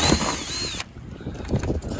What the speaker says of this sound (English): I can put screws that go through the lid into this fiberglass